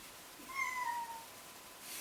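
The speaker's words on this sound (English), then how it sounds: "That was the cat." A single house cat gives one short, clear meow indoors, faint and close, set against a quiet room.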